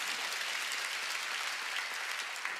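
A church congregation claps together, a dense and even wash of applause that holds steady from start to finish with no voices rising above it.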